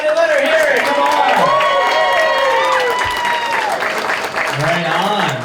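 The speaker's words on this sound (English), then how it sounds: "give it up for Emily Woods" A comedy-show crowd claps and cheers for comedian Emily Woods, a continuous wash of applause running under a host's loud amplified talk throughout.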